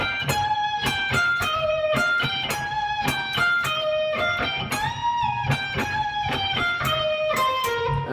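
Lone high electric guitar plays the closing harmony line of a song, a slow run of picked notes with bends and sliding pitch, steady and unaccompanied.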